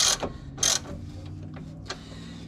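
A wrench tightens the tie rod nut on a Porsche 996, with a few short, sharp metallic ratcheting clicks up close, followed by quieter mechanical fiddling in a workshop.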